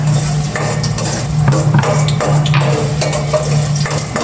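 Garlic frying in a pan for a home-cooked dish, a steady dense sizzle with stirring scrapes and clinks of utensil on pan, close and continuous throughout.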